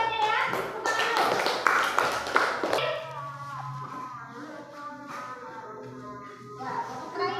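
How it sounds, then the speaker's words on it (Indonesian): A classroom of children clapping for a group, a dense burst of applause that fades after a few seconds, followed by children's chatter and a teacher's voice. "Tepuk tangan untuk kelompok 1"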